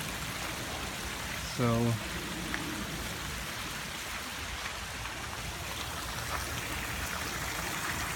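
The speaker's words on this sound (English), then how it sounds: "welcome to the Merman School Pond Stream Waterfall" Steady rush of water flowing through a garden pond stream and waterfall at a school, a constant hiss-like wash throughout, with a brief spoken word near the start.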